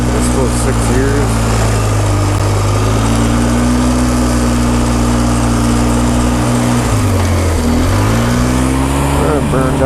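A Polaris off-road vehicle's engine drones loud and steady up close while driving down a road, pitch holding fairly even with a brief dip and rise near the end.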